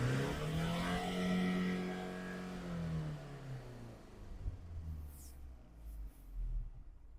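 A Mazda CX-5, 2013 or newer, revs hard with the accelerator floored during a smoke test at a technical inspection, its engine note climbing and then falling back toward idle, loud and close with no talk.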